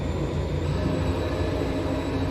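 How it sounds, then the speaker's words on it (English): Train rumbling along in Transport Fever 2, a steady in-game rail drone with low rolling rumble and faint high whine, alone and continuous throughout. "I'll just jump on a train for a second."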